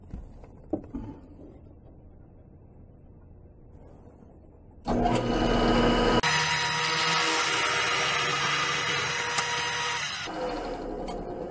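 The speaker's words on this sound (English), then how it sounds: "I'll just make a mark somewhere around there, and I'm gonna drill completely through." A power drill starts up after a few quiet knocks and bores completely through a wooden whirligig figure, a loud steady whine that runs continuously for several seconds, close by.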